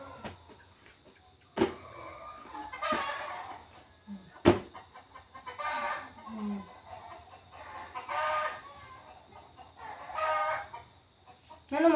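Backyard chickens cluck in short bursts while a rooster crows repeatedly, with a couple of sharp knocks and faint background noise across the clip.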